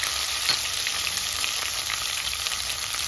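Garlic fries with bay leaf, cinnamon and cardamom in hot oil for chicken biryani, giving a steady, close, crackling sizzle that runs throughout.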